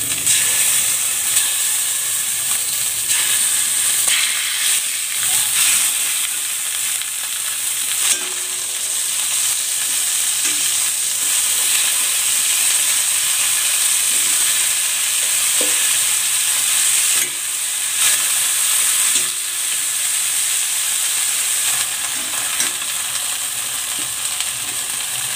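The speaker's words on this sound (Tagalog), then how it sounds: "Maglalagay ako ng cooking oil. Ipan-fry ko muna itong chicken." Chicken frying in hot cooking oil in a pan, a loud continuous sizzle and hiss with occasional stirring scrapes and crackles, steady throughout with no talking.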